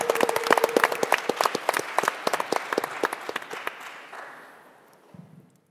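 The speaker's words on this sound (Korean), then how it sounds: "박수 한번 보내주시기 바랍니다." An audience claps before a startup pitch at a startup competition show, with dense, close applause that thins out and fades to quiet.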